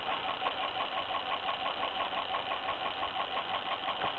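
A Muller magnet motor with relay coils spins steadily, producing a close, even mechanical buzz with a rapid regular pulsing, like a small engine idling, with no talk.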